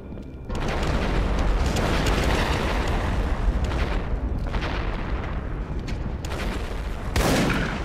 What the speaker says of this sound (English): just don't react to those explosions around you